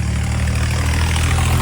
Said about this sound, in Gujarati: ટ્રેક્ટર આવ્યું.